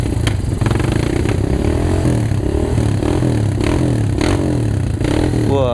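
Off-road motorcycle climbing over rocks in a ravine, engine revving loudly and unevenly with throttle surges, clattering and scraping close by, no voices.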